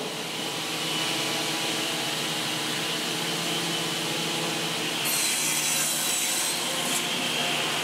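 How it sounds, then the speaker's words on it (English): A table saw cross-cutting planed larch boards for end grain butcher block cutting boards: a steady whining saw hum, fairly quiet, with a brighter cutting pass rising partway through. "after the boards have been through the planer, they go to the table saw where they get cross-cut on the table saw"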